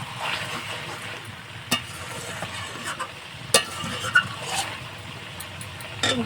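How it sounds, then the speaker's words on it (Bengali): Chicken pieces sizzle in their own rendered fat, no oil added, in a pan for curry, a steady close frying hiss broken by a few sharp scrapes and clinks of stirring, with no talk. "দেখুন চিকেনে যা তেল ছিল সেই তেলেই রান্না হয়ে যাচ্ছে"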